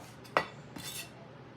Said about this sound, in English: grab your tomatoes and slice them up and put them on a paper towel to sop up excess juice